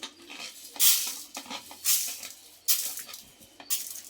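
Peanuts, chana dal and urad dal roast dry in a pan, and the spoon rasps and scrapes in four or five loud stirring bursts with short pauses between them.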